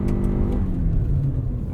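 A 2021 Toyota RAV4 Prime XSE plug-in hybrid with a 2.5-liter four-cylinder accelerating at full throttle on a winter road, a loud, close engine drone and rumble that rises as it pulls.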